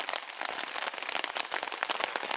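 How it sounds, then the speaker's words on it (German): Steady continuous rain during a bicycle tour through Sweden, a dense even hiss of drops throughout, fairly faint and unbroken, with no one talking. "Wie man schon hören kann, im Hintergrund, es regnet."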